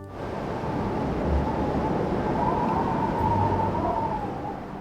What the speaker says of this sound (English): The wind took a deep breath and blew with all his might